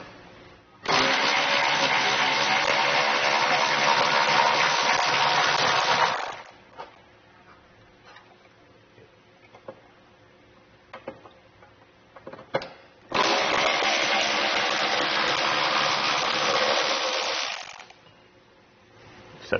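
Power tool spinning off 10 mm nuts during a Curt trailer hitch receiver install on a 2017 Lincoln MKX, two loud, steady whirring bursts of about five seconds each separated by quieter clinks and handling noise.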